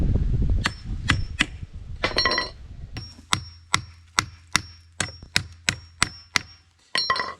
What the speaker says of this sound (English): Just going to hammer it down through